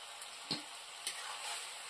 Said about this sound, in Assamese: এইখিনিকে অলপ সময় ধুনীয়াকৈ ভাজি ল'ম